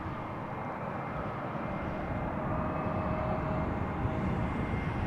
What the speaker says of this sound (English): EasyJet A320neo arriving from Stansted, followed by an A330-200.